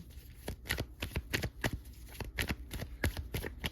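A new deck of playing cards is shuffled close up, giving a quick run of crisp, rhythmic riffling clicks and snaps with no talking.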